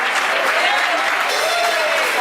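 A church congregation applauding during an evening service, dense continuous clapping that stays loud and steady throughout, with faint voices mixed in.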